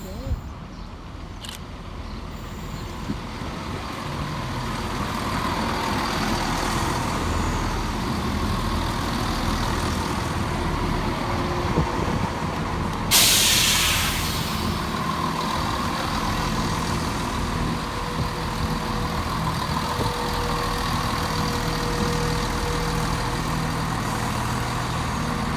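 Scotrail Class 170 diesel units arrive at Inverkeithing station with a steady low engine drone that builds and holds, joined midway by a sharp hiss of air brakes.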